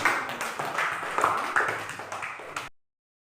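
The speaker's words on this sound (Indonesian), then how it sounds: "Beri tepuk tangan." Applause in a classroom, a short burst of clapping from a group of students that fades out after a few seconds.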